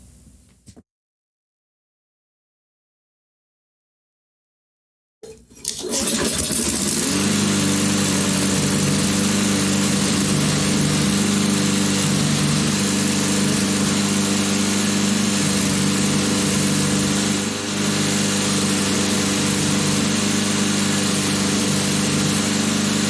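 A Toro self-propelled lawn mower engine starts up after a few seconds of silence and runs steadily at a loud, even drone, heard close and alone for the rest of the clip.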